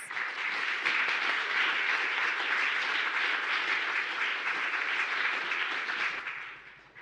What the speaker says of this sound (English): Please join me in welcoming with a big, big applause, Dr. Ricaurte Vásquez